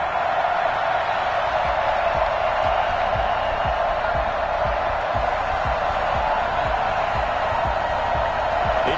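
Stadium crowd at a Panthers versus Cowboys game in Madden 21, a constant loud roar of cheering throughout with a low rhythmic thumping beneath it and a voice talking over the top.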